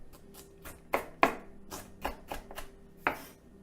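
A knife chopping half of a small onion on a board, about a dozen crisp, fairly quiet cuts in an uneven rhythm with short pauses.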